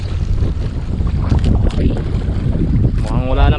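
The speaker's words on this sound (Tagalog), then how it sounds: "Lakas ng amihan." Strong northeast monsoon wind roars steadily at sea aboard a small fishing boat, with broadband buffeting and microphone wind noise throughout, water sloshing beneath, and a brief tonal whine rising near the end.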